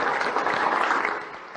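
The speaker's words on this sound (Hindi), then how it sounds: "तालियां बजाइए शौर्य दल के" Brief burst of crowd applause at a live event in Bhopal, steady massed clapping honouring the Shaurya Dal women's group.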